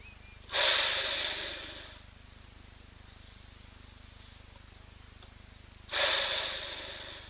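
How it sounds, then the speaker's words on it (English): Wild animal wallowing in mud, two loud heavy breaths or snorts about five seconds apart, each with a rush of air that slowly fades, over quiet background hum. "I love that we can hear him breathe."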